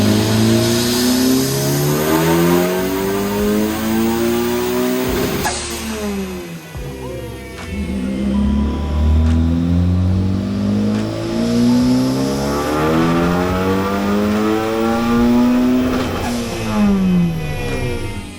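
A turbocharged high-compression 1.6-liter Mazda Miata engine on a dyno, revving loudly with rising and falling pitch through repeated pulls, with a brief cut in the middle.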